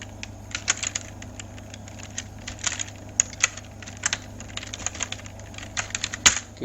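Rapid typing on a computer keyboard in Microsoft Word, with dense irregular key clicks continuing steadily throughout, close and clear, with no talking.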